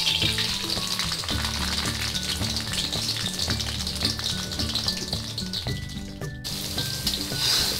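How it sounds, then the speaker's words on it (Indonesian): Spicy paste poured into hot oil sizzles and crackles steadily and loudly, being stirred for a Javanese egg and petis dish, with a musical melody playing underneath throughout. "Ini minyaknya sudah panas. Sekarang kita tuangkan bumbunya."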